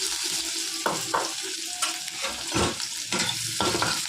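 Chopped onions go into hot oil with nigella seeds in a kadai, giving a steady close sizzle with bursts of stirring and spatula scrapes, no voices.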